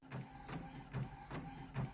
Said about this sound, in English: we have our image printing out. This is my Epson Workforce 7720.